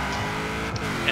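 A Camaro Z/28 launches at a drag event in Forza Horizon 4, its engine roaring loud and sustained through a short burst while a voice talks over it.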